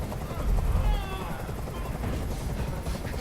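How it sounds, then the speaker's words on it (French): A helicopter in the Detroit: Become Human PS4 demo gives a loud, continuous rotor rumble, swelling heavier near the start, then holding steady as a dense throbbing drone. "Je peux plus supporter ce bruit. Fais dégager cet hélicoptère, maintenant."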